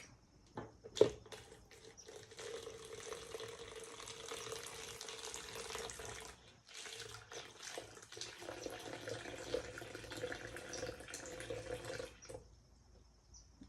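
Water poured steadily from a tap into one side of a container to form a small lake in a classroom lab model, a continuous splashing stream with a brief pause midway, heard alone.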